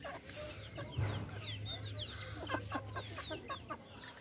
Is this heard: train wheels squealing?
no